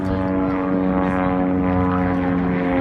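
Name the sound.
aerobatic propeller airplane engine at an airshow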